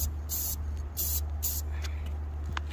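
Clear coat is sprayed onto a Bayliner boat trailer, with several close hissing bursts from a spray gun over a low steady hum.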